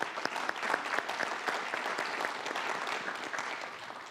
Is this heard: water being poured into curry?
no